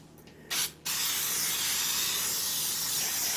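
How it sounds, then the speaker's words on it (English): Pam baking spray aerosol hissing onto a cake dish, one short burst followed by a long, steady spray that continues to the end. "I'm using this Pam, the baking."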